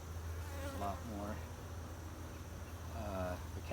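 Honey bees in a five-frame nuc hive make a steady, close droning buzz that fills the whole stretch, with a person talking intermittently over it.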